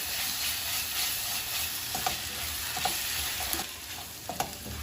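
Crushed ginger, garlic and green chili frying in a pan for mutton biryani, a steady close sizzle broken by soft scraping stirs at intervals.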